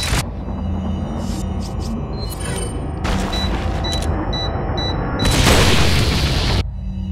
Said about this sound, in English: Shot him right in his abdomen.